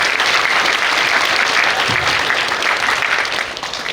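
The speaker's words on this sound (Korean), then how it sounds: "두 분께 박수 한번 부탁드립니다." Audience at a school talk concert with retired four-star generals claps loudly and steadily, a dense sustained round of applause that tapers slightly at the end.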